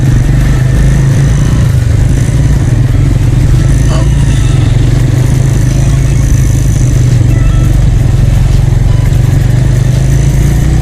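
Motorcycles ride an off-road adventure track with skidding tyres, a loud continuous engine drone with clattering and uneven throttle close by, holding steady throughout with no clear speech.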